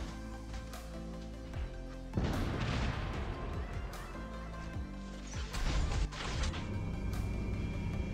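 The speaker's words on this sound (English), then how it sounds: "This Titan right there, he's shooting me with everything he has got." A Titan robot in the War Robots game unloads all its weapons, with heavy crashing bursts of gunfire and impacts erupting over a constant loud backdrop of game music and engine drone.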